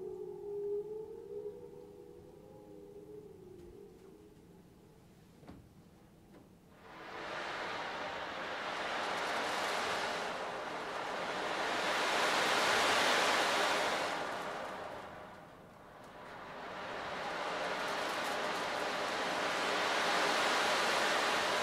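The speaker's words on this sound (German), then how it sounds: "Das Wasser rauscht" Rushing water swells in after a quiet opening with a faint tone, then a broad, loud roar that surges and ebbs in slow waves like surf or a torrent, with no voices.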